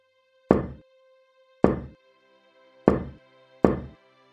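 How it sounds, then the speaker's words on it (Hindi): Four loud, sharp knocks on a village house door, each a single resonant thud, spaced unevenly about a second apart with silence between. "दौड़कर पास के घर का दरवाजा खटखटाता है।"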